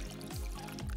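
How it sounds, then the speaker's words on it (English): Water poured from a cup into a Dutch oven over pork, a steady close splash and trickle lasting about a second with no voices. "Add a cup of water so that it just covers the pork."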